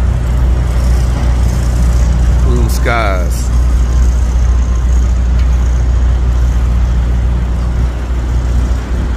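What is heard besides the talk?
trucks and traffic at a Pilot truck stop, Southern California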